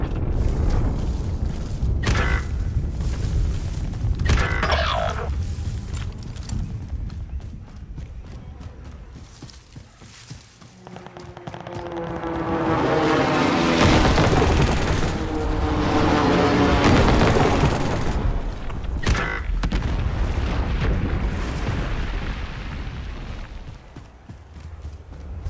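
Godzilla's attack in a video game sets off repeated heavy booms and rolling rumbles, some sharp and close, others swelling into a long thunderous roar.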